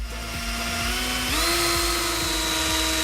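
An electric fluid transfer pump for motor oil runs with a steady whine and faint rhythmic ticking, close and loud, its pitch rising partway through and then holding level.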